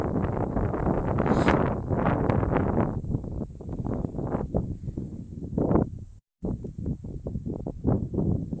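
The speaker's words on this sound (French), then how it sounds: "c'était le vent" Strong wind buffets an outdoor microphone on the plain of the Ain in gusting, roaring bursts that rise and fall, with one short dropout of near silence before the rumble resumes.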